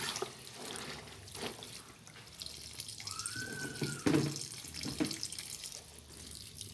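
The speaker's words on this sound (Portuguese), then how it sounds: "Aí escorra a água que tá suja." Dirty water draining from a basin while clothes are washed by hand, a faint running and trickling with a few drips and splashes, close by and without talk.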